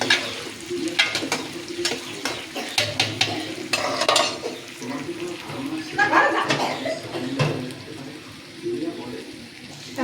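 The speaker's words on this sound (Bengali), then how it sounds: "আমার পোলাওটা একটু লাড়া দেবো।" Pulao rice cooking in a pot for a home biryani meal is stirred with a spoon in repeated scraping and clattering strokes, spread through the stretch, while a person talks nearby over a soft background hiss.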